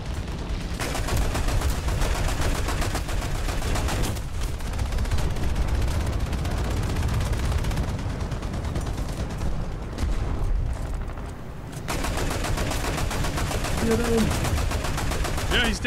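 Tank gunfire in War Thunder: loud, rapid bursts of shots and heavy cannon blasts rolling almost continuously, with a brief lull near the end before the firing resumes, under occasional talk.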